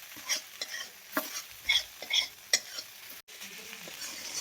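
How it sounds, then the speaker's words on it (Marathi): Sliced okra stir-fried in a pan for a quick Marathi-style bhendi bhaji, with a steady sizzle under repeated scraping strokes of a spatula against the pan, fairly close. "हे अशी भाजून घ्यायची आपल्याला एकसारखी."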